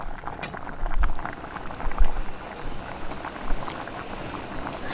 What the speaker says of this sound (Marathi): आता मी याला परत दहा मिनटासाठी मंद आचेवर शिजू देते